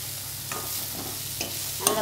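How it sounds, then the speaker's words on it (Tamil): Apple pieces sautéed dry in a pan with no oil, stirred so a soft sizzle runs steadily under a few scraping strokes of the spoon, close and fairly quiet with no talking. "இதை கொஞ்சம் நல்லா பச்சை வாசனை போக வதக்கும். இந்த ஆப்பிளில் இருக்கிற ஈரமே போகும், எண்ணெய்லாம் வேண்டாம்."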